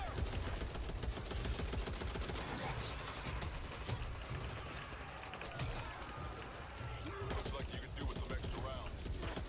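Rapid gunfire crackles through a Back 4 Blood video game fight, with dense overlapping shots and bursts that sound like automatic weapons, loud and continuous across the stretch.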